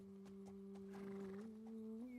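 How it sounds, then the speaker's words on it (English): Horse hooves clip-clopping in a quick, light rhythm with a sustained musical tone beneath, from the medieval open-world game Kingdom Come Deliverance 2; faint and brief, no talk. "Horse."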